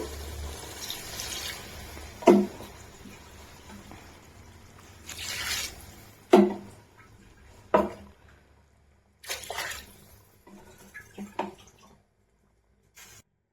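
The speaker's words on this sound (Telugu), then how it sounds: "నీళ్ళు పోసుకుందామండి." Water is poured from a glass into a pot of chicken biryani masala in a few separate splashing bursts with quiet gaps between them.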